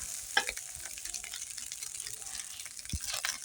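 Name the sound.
rice frying in a pan for chickpea khichuri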